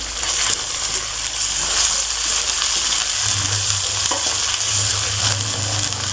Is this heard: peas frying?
yes